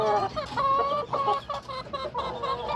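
Chickens cluck and squawk close by at feeding time, a busy overlapping chatter of many birds that keeps going without a break.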